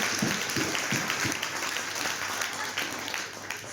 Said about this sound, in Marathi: सो सगळ्यांसाठी एकदा जोरदार टाळ्या वाजवा